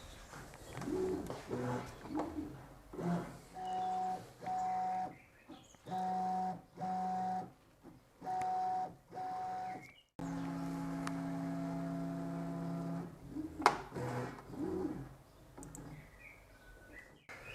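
An xTool M2 laser machine fitted with a print head runs a print job, giving rhythmic bursts of tonal stepper-motor whirring in regular pulses, then a longer continuous drone, close by, with faint background noise.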